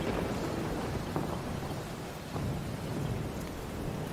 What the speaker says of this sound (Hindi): बाहर इतनी जोरों से बारिश हो रही है